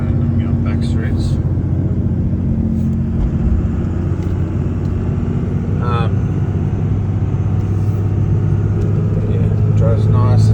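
A 2001 second-generation Dodge Ram with a Cummins diesel and five-speed manual cruises in fourth gear, giving a steady, loud, low engine drone and road rumble throughout, with brief faint clicks over it.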